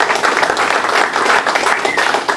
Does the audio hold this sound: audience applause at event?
yes